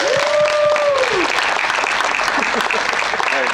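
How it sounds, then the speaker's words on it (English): A crowd at a furry convention's Jeopardy game show claps for the players, loud sustained applause filling the room, with a brief voice or tone over the start. "Let's give a round of applause to all our players."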